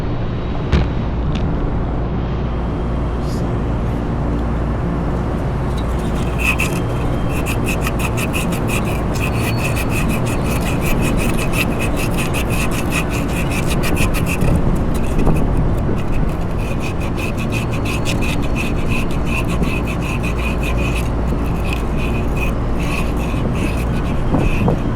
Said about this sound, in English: we're going to sand this shaft a little bit to make it easier to get out.